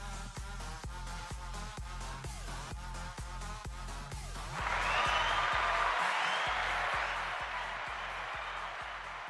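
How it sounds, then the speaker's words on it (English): A studio audience bursts into applause for the host's entrance on a Wacky Wednesday variety show, following a rhythmic music intro with steady beats; the clapping swells loudly and holds as a dense, sustained wash. "Thank you for all that applause"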